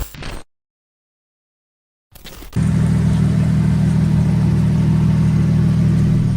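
A Toyota Mark II JZX90, a rear-wheel-drive manual, launches for a 0-100 run: a short burst, a silent gap, then a loud, sustained close engine roar that holds strong to the end.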